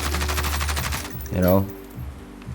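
Rapid automatic hip fire from a Kilo 141 assault rifle in a first-person shooter, a fast burst of shots lasting about a second, followed by a brief game sound effect.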